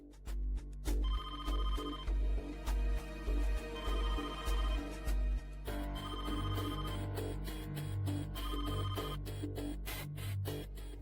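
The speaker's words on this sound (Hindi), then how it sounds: "रुको गुंजन, शायद हमारा फोन है," Telephone rings with a repeated electronic melodic tone, continuing alone for several seconds over a pulsing music-like bed with a steady beat.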